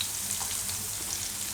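Aloo baingan paleeta fry in oil over low heat, giving a steady close hiss and crackle with no other sounds.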